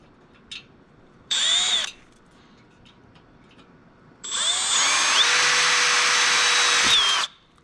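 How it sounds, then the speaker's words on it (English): Power drill whining through a deck chair trough, a short burst followed by a longer sustained run with rising pitch, close and loud against a quiet background. "I just drilled right through that little trough"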